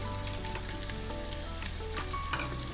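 Beef paya fries in a pan with a continuous crackling sizzle and faint stirring scrapes, close and steady throughout, with no talk.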